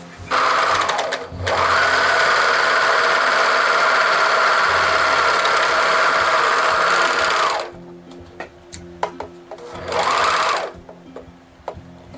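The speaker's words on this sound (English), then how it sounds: "that was my serger machine, and the serger does like a different kind of stitching" Serger machine sewing fabric for a tattered pixie skirt, a loud steady whirring run lasting several seconds, then a pause with faint handling sounds and a second shorter burst.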